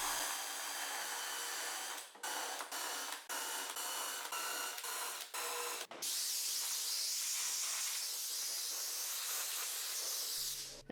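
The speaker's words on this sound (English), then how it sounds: "now let's go ahead and grab our step drill bit" A step drill bit grinds steadily through an aluminum-style engine cover for an S550 Mustang GT, a loud continuous whirring hiss broken by brief pauses as each cut stops and restarts, with no talking.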